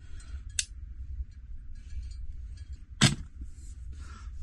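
A CPVC pipe is cut with a ratcheting pipe cutter under a mobile home, giving two sharp, close snaps of the blade a few seconds apart over a low background hum.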